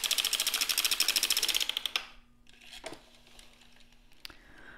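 A hand-cranked sock knitting machine running for about two seconds, a fast, even mechanical clatter of needles close up, then stopping, followed by a few faint clicks and small handling noises.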